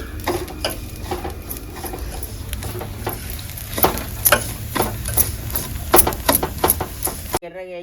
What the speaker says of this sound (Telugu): కొబ్బరి తుడుము కూడా వేపుకోవాలి ఎర్రగా వేపుకోవాలి